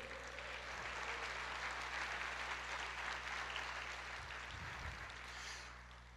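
A church congregation applauds together in a steady, sustained wash of clapping at moderate level, with a low hum running underneath and a few brief thumps near the end.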